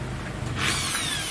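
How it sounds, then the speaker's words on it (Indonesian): A power drill grinds steadily at a Vario 125 motorcycle cylinder head during porting, a continuous close whine that rises in intensity midway with no talk. "ini gua langsung ke tembak, ke bor tembak"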